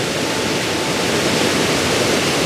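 A waterfall roars with rushing water and rapids, a loud, dense, continuous hiss of flow that stays steady throughout, close and alone with no voices.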